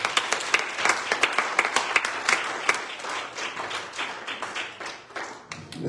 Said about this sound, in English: Will you clap your hands on the Lord?